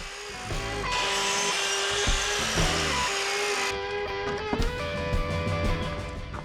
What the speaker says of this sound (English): Now I'm going to set up a jig to cut the cedar slats.